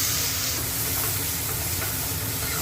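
Onion sizzles in hot oil with mustard seeds and cumin for pav bhaji, a steady close hiss and crackle without any voices.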